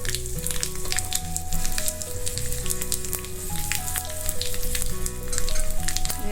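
Dried chilli, curry leaves and asafoetida sizzle and crackle steadily in hot oil, a dense continuous frying hiss with soft music playing underneath.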